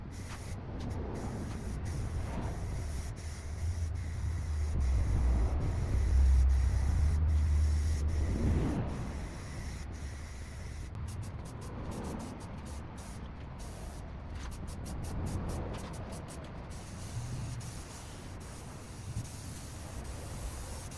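Aerosol spray cans hissing steadily as a car, a Nissan S14, gets a second coat of paint, a continuous broadband spray with brief pauses and a louder stretch in the middle, some low muffled talk underneath.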